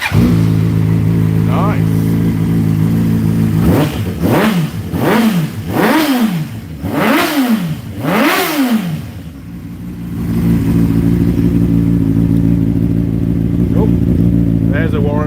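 A car engine cranks with five rhythmic rising starter whirs, then catches and settles into a loud steady idle; a voice speaks briefly over it.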